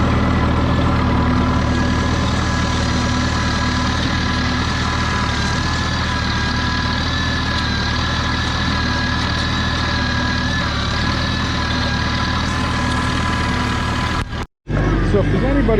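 A tractor engine runs steadily while cultivating rows on a farm, a constant loud low drone and rumble throughout, cutting out briefly near the end.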